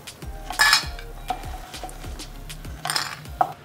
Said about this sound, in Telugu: లో టు మీడియం ఫ్లేమ్లో పెట్టుకొని ఈ విధంగా కలుపుతూ వేయించుకుందాం